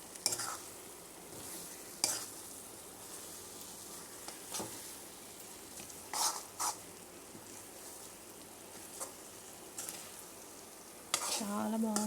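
Tamarind juice poured into a sizzling stuffed-brinjal masala curry (gutti vankaya) in a pan: a steady soft sizzle runs throughout, broken by several brief scrapes and stirring clatters, the loudest near the end.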